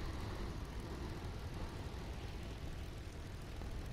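A damaged warplane comes in for a heavy landing in War Thunder's realistic battle mode, its engine drone a steady, dense rumble with wind noise, continuous and unbroken.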